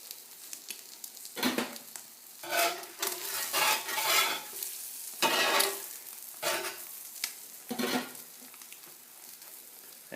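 Eggs sizzle on a hot cast iron griddle while a spatula scrapes and stirs, giving a continuous close frying hiss broken by intermittent metallic scraping strokes.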